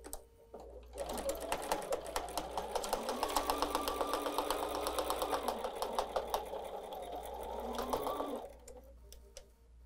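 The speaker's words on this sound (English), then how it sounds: "Let's go sew a quarter of an inch together." A sewing machine stitches darts closed in a fabric plate cozy, a quarter-inch seam: a steady, close, rapid mechanical whirr with fine rhythmic needle ticks running for about seven seconds before stopping.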